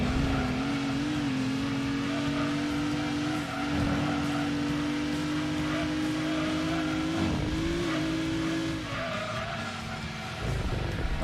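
A Camaro race car's engine drones steadily in Gran Turismo 2, holding a strained, constant pitch with brief dips as it shifts, loud and continuous with no talking.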